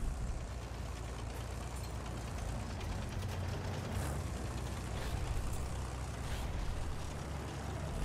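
An artillery truck engine in the video game Battlefield 1 rumbles steadily throughout, a continuous low drone with faint mechanical clatter and no talking.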